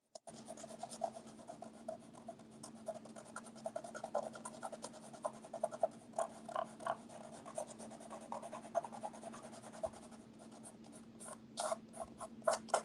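A soft brush drags across gridded paper in a series of quiet, close scratchy strokes with an irregular rhythm over a faint steady hum.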